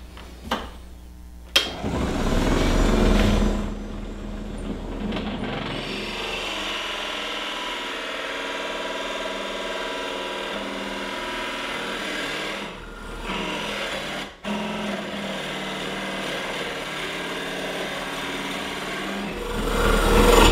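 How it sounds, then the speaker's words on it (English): A power drill whirs steadily into wood at a marked spot, close and loud, with a sharp click near the start and a brief dip partway through. "we'll go ahead and drill into that mark."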